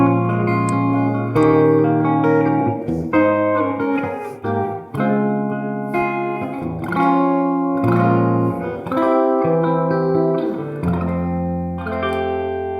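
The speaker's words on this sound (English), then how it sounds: "next up is the plate reverb. It's mode number 2. It's based off the MT140 found at the Abbey Road studio." Guitar played through a Universal Audio Golden Reverberator pedal on its plate reverb mode, modeled on an Abbey Road plate, with chords and single notes ringing out under a subtle wash of reverb, alone and without talk.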